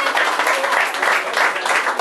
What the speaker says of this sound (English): Give a clap. Give a clap.